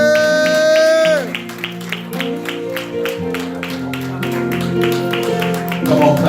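A church congregation claps in a rhythmic, evenly spaced beat after a sung note ends, with organ or keyboard tones sustained underneath and a voice briefly over it.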